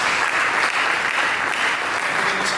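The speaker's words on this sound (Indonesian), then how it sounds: "Mari kita berikan tepuk tangan bagi Yesus." A church congregation claps together, a dense, loud, sustained burst of applause filling the room without pause.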